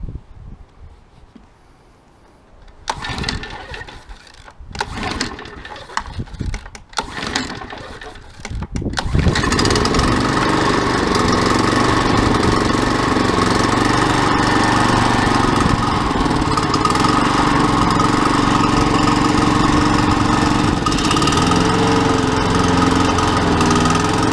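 A heavy walk-behind lawn mower weighing about 116 to 120 pounds sputters through a few start attempts, then catches and runs loud and steady at close range, its engine roaring continuously until the end.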